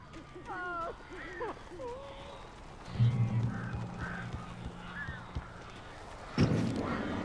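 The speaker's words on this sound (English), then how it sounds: "These birds are weird." Crows caw in a harsh, repeated, fairly close call during the Alan Wake video game, mixed with game sound effects and low rumbling noise, with a few bursts of louder activity.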